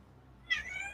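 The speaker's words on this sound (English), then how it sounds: "Sorry, my cat is being super loud today." A house cat lets out a single loud meow partway through, close and clear against a quiet indoor background.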